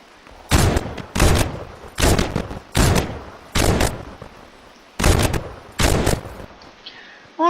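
A new rifle fires in Fortnite in eight evenly spaced, loud, sharp shots about a second apart, each ringing out briefly, with nobody speaking over them.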